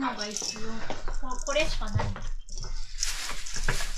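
Homemade miso being mixed in a bowl at a low table, with scattered clinks and scrapes of utensils against the bowl heard under steady talking.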